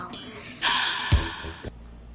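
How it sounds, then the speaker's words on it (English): A gasp-like vocal swell rises within a film score for the 1994 film Blank Check, a breathy sustained intake over low orchestral tones, ending with a sharp thump. "Did the film score just gasp?"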